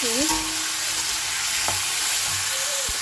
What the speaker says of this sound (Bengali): পেঁয়াজটা একটু ভাজা ভাজা হয়েছে